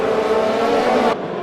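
Race cars in a racing video game accelerating on a restart at the Netherlands Grand Prix, a loud, close, steady engine roar that drops off abruptly at the end.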